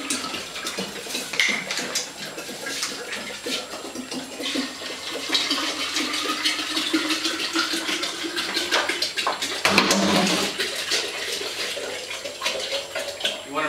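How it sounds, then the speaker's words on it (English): Filtered water pours into a gallon glass jar holding boiled tea, a continuous splashing gush that swells and thickens near the end as the jar fills. "add the remaining of your filtered water"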